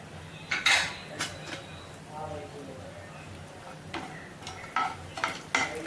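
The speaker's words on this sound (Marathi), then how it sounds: "आपण आता काजूच्या पाकळ्या टाकून आपण ह्या सुद्धा भाजून घेऊया" Cashew pieces roasting in a pan while being stirred, with intermittent metallic clinks and scrapes of a spoon against the pan, some light sizzle, and a person talking in between.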